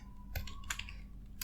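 Keyboard keys being typed while entering a command on a computer, a few quick clicks in a short, close burst with a faint hum underneath.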